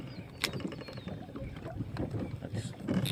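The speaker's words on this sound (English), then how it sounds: "I do not like fishing in the wind" Wind gusting across a reservoir during a spring bass fishing trip from a boat, a steady broadband rush with buffeting on the microphone, water and boat movement mixed in, loud and continuous throughout.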